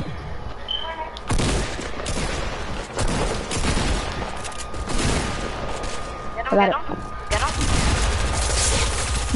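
Video game gunfire: bursts of rapid shots and booms in a busy firefight, loud and close, running under players talking over each other.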